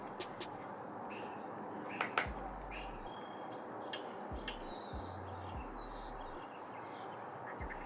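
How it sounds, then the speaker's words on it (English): Small birds chirp outdoors in short, faint, scattered calls against a quiet indoor background during a makeup session. "Sorry for those stupid birds outside."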